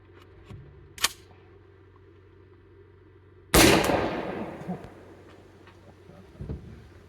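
A Sentry TUR105 cannon fires a Mug root beer can on a range: after a faint earlier click, a single loud sharp blast rings out and decays, followed by some low handling noise.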